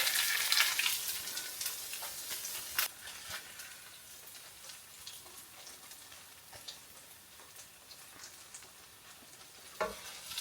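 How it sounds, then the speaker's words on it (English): Beef and melting cheese sizzle steadily in a frying pan, a continuous close crackling hiss with a few louder pops and stirring scrapes, no voices. "We're just melting that cheese now"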